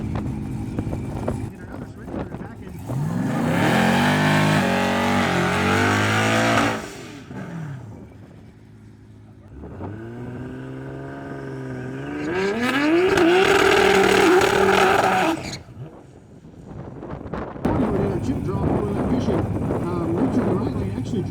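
Two street-race cars, an LS-powered Pro Charger 1955 Bel Air and a GTR, rev loudly in rising and falling bursts, with wind buffeting the microphone and voices talking over the engines.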